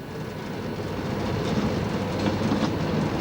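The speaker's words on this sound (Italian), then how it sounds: "Il nostro treno transita." A train on the Gailtal railway line in Austria rolls on with a steady, loud rumble and soft rhythmic clickety-clack from the wheels, building slightly over a few seconds, with no voices.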